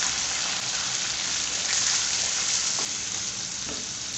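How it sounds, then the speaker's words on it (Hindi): Chicken liver and heart sizzling as they go into a hot karahi, a steady dense crackle with a few louder pops, close and continuous without any talk. "अब इसके अंदर मैं कलेजी शामिल कर दूँगी।"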